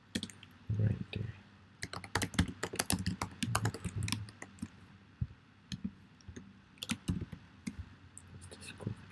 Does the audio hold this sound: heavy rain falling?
no